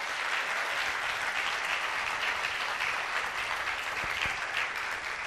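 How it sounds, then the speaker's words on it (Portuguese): A church congregation applauding, a continuous broad wash of many hands clapping at an even level, with no voices standing out. "Se eu fosse você, eu celebrava a Deus com uma salva de palmas."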